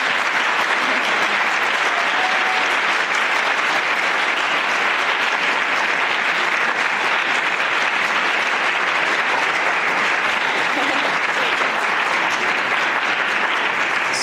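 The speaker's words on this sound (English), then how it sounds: "And we can give him a round of applause." Steady, dense applause from a lecture audience after a talk on fusion energy research, sustained and even in loudness from start to finish with no speech over it.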